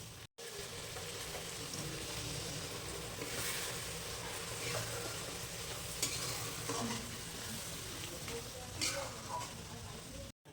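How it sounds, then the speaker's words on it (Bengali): Luchi deep-fry in a large batch of oil at a shared mess picnic, a loud steady sizzle with bubbling and occasional clatters, close up while people talk faintly nearby. "এই যে এগুলো ভেজে ভেজে রাখা হচ্ছে।"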